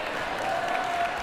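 Brief burst of audience applause at a stand-up comedy show, a steady wash of clapping hands filling the room, fairly close and continuous with a hint of crowd noise.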